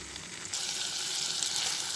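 Chicken frying in hot oil, a soft steady sizzle that suddenly grows louder and brighter partway through, then holds continuous and close with no talking.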